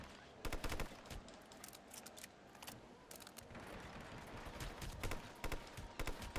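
Gunfire in the stealth shooter Hitman Absolution, rapid sharp shots in irregular bursts, some close and loud, others lighter, with no talking over them.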